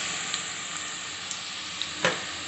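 Bitter gourd (kakarakaya) chips frying in hot oil give a steady, close sizzle with faint crackles and one louder clatter near the end, with no talking.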